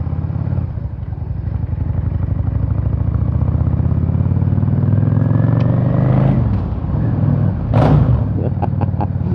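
A 1997 Yamaha XVS650 DragStar motorcycle idles and rumbles steadily while riding through Lucerne city, then gives a quick throttle blip near the end, a close, loud engine note with some traffic clatter around it.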